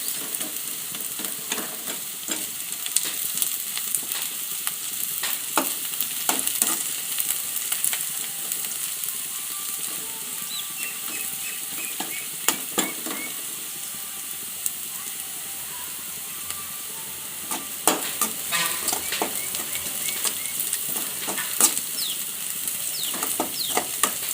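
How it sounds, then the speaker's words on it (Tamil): Onions sautéing in a pan for a pepper chicken curry, a steady close hiss and sizzle with frequent sharp spatula scrapes and taps throughout, with no talking. "இப்போ பார்த்திங்கன்னா வெங்காயம் ஒரு பாதி அளவுக்கு வதங்கியிருக்கு இன்னும் நல்லா வதக்குங்க"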